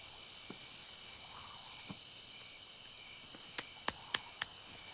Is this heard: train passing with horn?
no